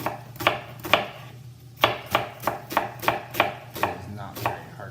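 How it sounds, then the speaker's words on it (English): A knife cutting a bacon cheeseburger ingredient into about eight 3/4-inch slices on a board, roughly eleven crisp chopping taps in an uneven then steady rhythm, close and clear. "And then we're going to do about 8 3/4-inch slices."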